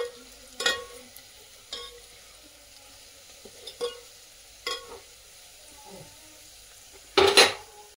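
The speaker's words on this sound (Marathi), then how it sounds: "तर आपल्या फोडणीला आता थोडा तडका आलाय" Chutney tempering fried on high flame, heard as a faint sizzle broken by a handful of sharp spatula clanks against the pan, spaced a second or so apart, with one louder scrape near the end.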